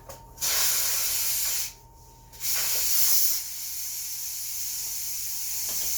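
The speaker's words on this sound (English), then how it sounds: "Okay, it just went off, so I will let the steam go." A pressure cooker releases steam in loud, steady hissing bursts, with a short break and then a longer, gradually softening hiss, heard up close in a home kitchen.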